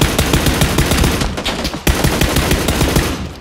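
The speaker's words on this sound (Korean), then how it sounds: "집에서 쏘고 있어요" Rapid automatic gunfire in PUBG Battlegrounds, a dense, loud stream of sharp shots fired in quick bursts with a brief gap before the firing resumes, no voices.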